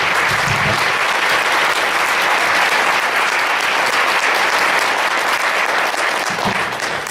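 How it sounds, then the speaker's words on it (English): An audience at an Asian American Studies talk applauds the guest speaker, a loud, full roomful of clapping that stays strong throughout and dips a little near the end. "Please give a round of applause for our guest speaker."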